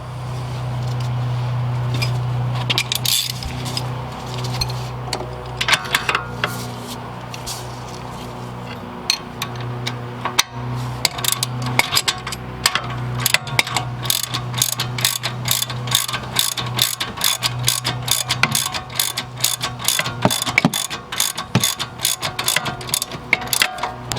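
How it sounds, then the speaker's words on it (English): A ratchet tightens the top strut mounting bolt, a 21mm nut held against an E18 Torx, on a Mercedes C/E/S-class or CLS, making rapid, close clicking bursts that grow denser and more regular toward the end. "Now I'm going to go on ahead and tighten up this top strut mounting bolt."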